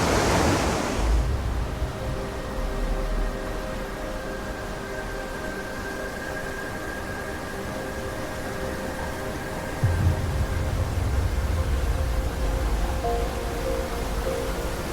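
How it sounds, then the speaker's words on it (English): A raging waterfall roars in a canyon along Mill Creek in the Angeles National Forest, a steady broadband rush of falling water with a brief burst of nearby noise at the start. "Here comes that waterfall. Very raging."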